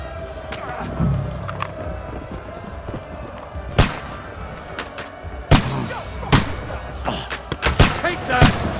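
Gunshots in Kingdom Come: Deliverance 2, several sharp cracks scattered irregularly over a busy background, a few of them loud and close, with voices shouting in between.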